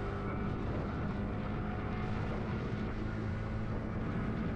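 Honda Winner X motorcycle on a short ride, giving a steady, continuous engine drone mixed with broadband wind rush that stays even in loudness throughout, with no speech.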